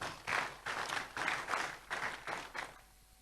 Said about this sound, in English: I think the treasurer deserves a round of applause.